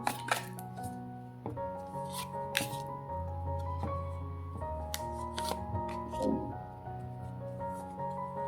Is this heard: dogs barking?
no